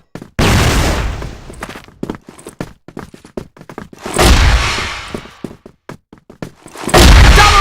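A flash bomb in a close-quarters shooting video game bursts in loud booming blasts mixed with rapid gunfire cracks, heavy bursts recurring between dense clusters of sharp shots.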